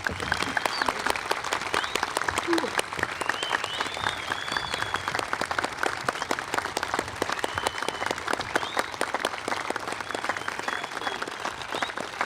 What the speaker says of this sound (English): So please give one more round of applause to Jan and all of his efforts.